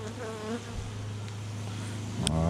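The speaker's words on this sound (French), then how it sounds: "Pourtant ça c'est un essaim" A swarm of bees hums continuously up close, a dense, steady buzz with individual insects passing near, with no voices.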